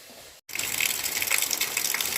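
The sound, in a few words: rainwater pouring down from a roof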